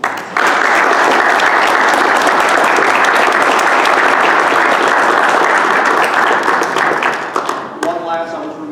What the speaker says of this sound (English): I would like to give them a round of applause